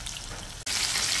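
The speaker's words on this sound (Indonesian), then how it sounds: "goreng sehingga ayam berwarna keemasan ataupun keperangan." Chicken pieces sizzle and crackle in hot oil while being fried until golden, a dense continuous frying hiss that cuts out for an instant and then comes back louder and brighter.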